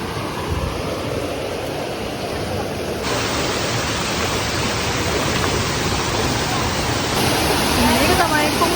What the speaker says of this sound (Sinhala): මේක තමයි කොම්බුකාර වෝටර්ෆෝල් එක.